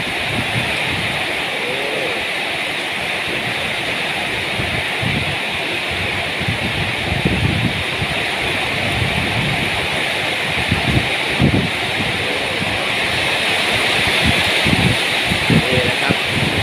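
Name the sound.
heavy rain with strong wind at night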